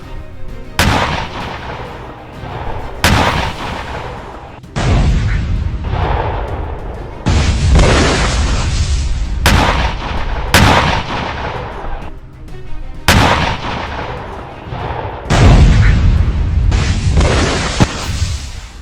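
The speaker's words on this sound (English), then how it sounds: "I began my preliminary bombardment" Artillery barrage sound effect for a preliminary bombardment in a Bolt Action tabletop wargame, with loud, booming blasts and rumbling explosions repeating every couple of seconds, continuous and heavy with no voices.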